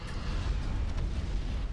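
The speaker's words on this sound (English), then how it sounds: "You lose a few Darkanoids from the explosion, but it doesn't really matter." Explosion in the strategy video game Supreme Commander 2, a dense, sustained low rumble with a couple of brief crackling bursts, loud and continuous throughout.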